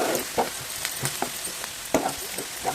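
Onions frying in a pan for a potato and cashew curry, a close crackling sizzle broken by sharp pops and stirring clatters at irregular intervals.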